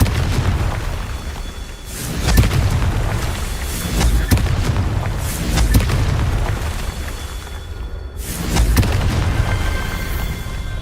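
Confringo explosive spell blasts in the Hogwarts Legacy video game, several heavy booming bursts repeating every couple of seconds over a dense, rumbling battle bed.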